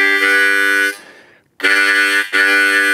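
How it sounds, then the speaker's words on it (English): A harmonica chord drawn by inhaling across holes 1, 2 and 3, loud and bright, sounded as a long note, a short break, then two more separated pulses. "This riff is played on holes 1, 2, and 3, and it's going to start with an inhale"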